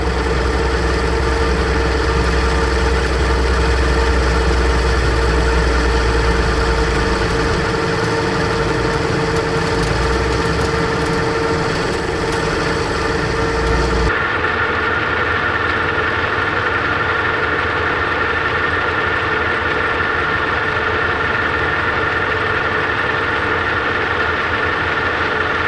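Metal machining with a hand-fed cut taking material off a workpiece, a steady loud machine drone with a grinding cut that drops to a quieter hum partway through.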